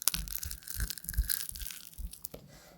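Flaky baklava pastry crunches and crackles in a series of close, crisp bites and crushing sounds, fairly quiet with no talking.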